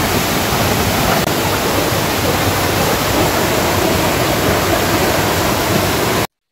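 Water from the Sharda River rushes through the Banbasa barrage dam, a loud, unbroken roar of churning flow like a waterfall, steady from start to end with no voices.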